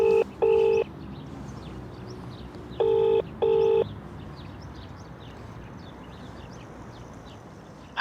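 Placing a phone call: the line rings back with two double-burst electronic ring tones a few seconds apart, clear and steady, followed by a faint hiss on the line.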